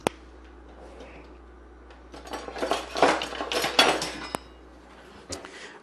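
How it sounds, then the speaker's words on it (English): Metal cutlery clinks and rattles as a spoon is pulled from a kitchen drawer, a short burst of jangling followed by a couple of sharp taps, with no talking. "I'm going to grab a spoon."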